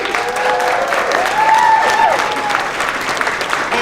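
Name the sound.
audience round of applause for patients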